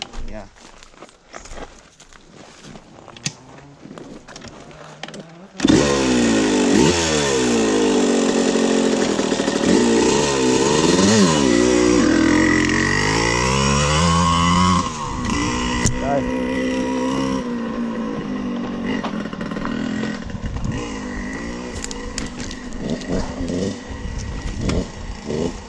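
A 1981 Suzuki RM465 dirt bike engine kicks in after a few seconds and revs hard nearby, its pitch rising and falling through repeated throttle blips, loud and steady, with people talking around it.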